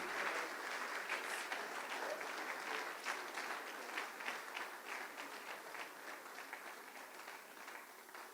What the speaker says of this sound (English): Can we have a larger round of applause for our guest speaker,